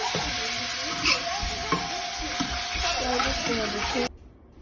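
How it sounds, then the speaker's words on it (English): Steak-umm sliced steak fries in a pan with a steady close sizzle and occasional scraping bumps, then cuts off abruptly near the end. "today I'm making steakums sliced steak."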